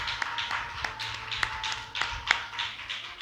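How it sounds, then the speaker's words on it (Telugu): Congregation in a Baptist church clapping hands together in praise, a steady run of sharp overlapping claps at moderate loudness over a low hum of the room, with no talking. "చప్పట్లు కొట్టి దేవుని మహింపరుస్తాం"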